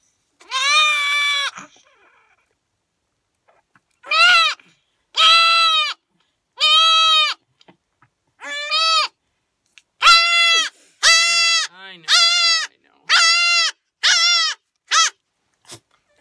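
A baby goat bleats repeatedly while restrained for eyelid entropion repair with a penicillin shot, a dozen loud close cries in quick bursts after one early call, with no talking.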